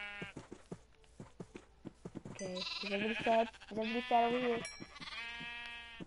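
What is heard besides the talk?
sheep bleating in Minecraft video game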